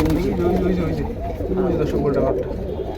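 A loft of about thirty-five male pigeons of original breeds, including golden and teddy birds, coos in overlapping low rolling calls, close and continuous throughout.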